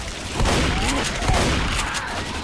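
Chaotic gunfire in the video game Left 4 Dead 2, dense overlapping shots and bangs over constant loud game noise, with faint voices mixed in.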